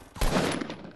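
A single gunshot in the Fortnite battle royale video game lands a headshot, a sharp close blast followed by a short decaying tail, with no talking over it.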